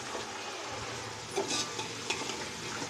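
Chicken pieces going into a pan of fried onions for Lucknowi chicken biryani, giving a steady close sizzle with stirring scrapes and a couple of brighter clatters, no talking.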